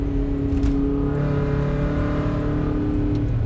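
2017 Toyota Corolla with its muffler removed accelerates from inside the cabin, a loud, steady droning exhaust note with a rising engine hum throughout, no talking.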